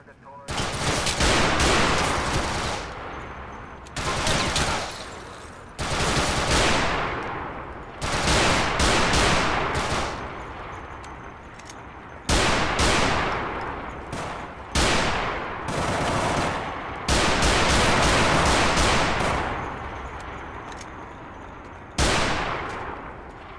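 Cartoon gunfire from a police-car animated series: loud bursts of machine-gun fire and fusillades arrive in repeated clusters, each volley sharp and sustained for a few seconds with brief pauses between.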